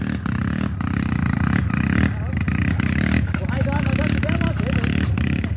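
Trail motorcycle climbing a slope at a Ceará trail event, engine droning and revving loudly and steadily throughout, with people shouting and talking excitedly over it.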